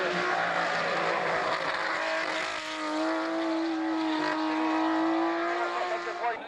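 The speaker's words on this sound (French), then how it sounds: "la superbe BMW numéro 65 pour Lilian" BMW race car number 65 climbing a hill course at a hill-climb event, its engine a loud sustained roar with rising and falling revs throughout.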